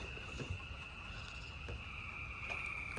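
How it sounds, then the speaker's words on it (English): Constant high chirping of frogs croaking fills the background during a thunderstorm, with faint patter and soft rumbles underneath and no talking. "those frogs are loud"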